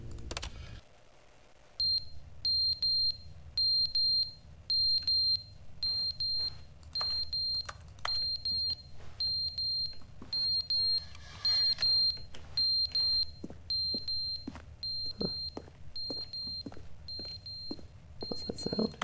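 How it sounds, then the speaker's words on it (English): Repeated electronic beeping from a movement sensor alarm in The Stanley Parable Ultra Deluxe, steady evenly spaced high beeps running throughout over a low game hum and scattered clicks. "Movement sensor alarm?"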